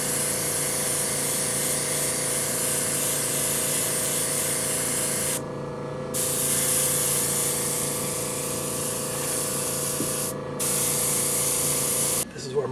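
An airbrush sprays paint onto a painted backdrop in a steady, continuous hiss that runs close and loud for nearly the whole stretch, broken by a few brief pauses.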